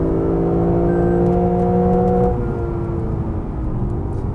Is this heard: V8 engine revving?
yes